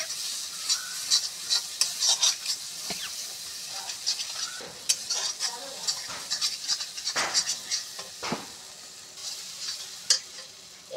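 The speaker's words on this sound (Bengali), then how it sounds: "মশলাটা খুব সুন্দর কষা হয়ে গেছে। এবার তেল ছাড়ছে।" Masala spices sauté in oil in a pan and sizzle steadily throughout, broken by frequent scrapes and clinks as a spoon stirs against the metal, close and fairly quiet with no talk.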